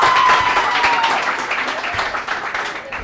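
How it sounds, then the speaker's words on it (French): An audience applauds at a school quiz competition, loud clapping from a crowd that fades gradually, with a brief tonal squeal early on. "on applaudit très fort"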